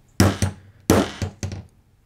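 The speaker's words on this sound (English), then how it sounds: "We take the punch and line it up on the hole, and I'm gonna grab my hammer" Hammer striking a metal hole punch set on leather while making a bullwhip holster: five close, sharp knocks in two quick clusters, the first blow of each cluster loudest, with no talking.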